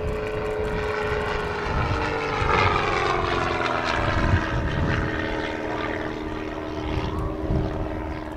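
A propeller training aircraft flies at the Southport Airshow, its engine a steady, fairly loud droning buzz with a strong harmonic hum that swells slightly midway and holds throughout, with no voices.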